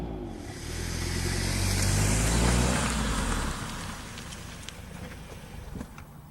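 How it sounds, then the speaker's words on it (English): An Alfa Romeo 4C Spider engine revs up loudly and steadily for a few seconds, then eases off into a quieter, lingering idle rumble, with no talking over it. "the engine is incredibly refined, emitting scarcely any vibration as you wind it out"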